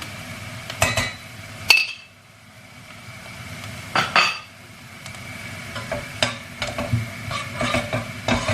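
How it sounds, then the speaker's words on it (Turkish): Onions sautéing with a spoonful of flour in a pot for chicken lentil soup, a low sizzle broken by spoon clinks and scraping against the metal at irregular intervals, close and fairly clear. "Tekrar kavurmaya devam ediyorum."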